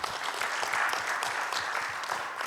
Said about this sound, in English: If we could have a clap for them.